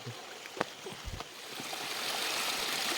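A steady rush of a flowing forest stream in the monsoon fills the background, with a few faint knocks and rustles early on.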